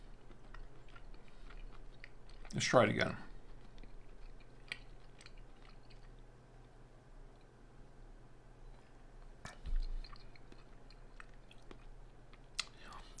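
Someone chews a piece of steak with a glass of Malbec, quiet soft mouth sounds in two brief bursts spread across a hushed room, with a short spoken phrase in between.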